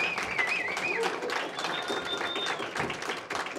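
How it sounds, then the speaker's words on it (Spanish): Audience applause at a panel discussion, a dense patter of clapping that holds steady for a few seconds while a voice speaks over it. "un fuerte aplauso"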